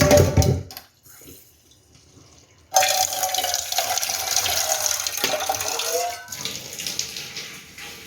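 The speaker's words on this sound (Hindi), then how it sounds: "पानी डालूँ" Water runs from a tap in a home kitchen, a short splash, a brief pause, then a steady gushing flow that pours for several seconds before easing.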